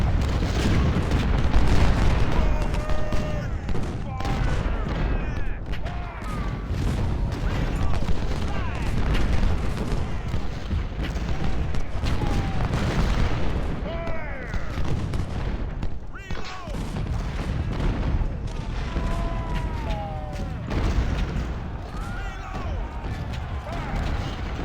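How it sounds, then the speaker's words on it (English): Canister and artillery fire from Civil War cannons at Chancellorsville in Ultimate General Civil War, a dense steady rumble of booms and shot across the whole stretch, with voices and battle noise mixed in. "take canister fire from Brown's artillery"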